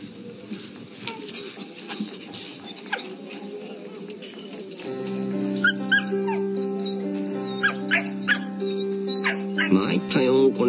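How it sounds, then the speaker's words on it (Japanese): A dog plays with a kitten near a harbour, giving short, high yips and whimpers amid scuffling, with a person talking and background music in the second half. "遊んでるワンちゃん。"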